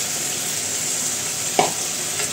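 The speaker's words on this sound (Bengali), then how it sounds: "আর এখানে মশলা কষানো হইতেছে, তেল ভেসে উঠছে" Spice paste for a fish curry fries steadily in hot oil, a continuous hiss close by with one brief louder stir or clatter near the end.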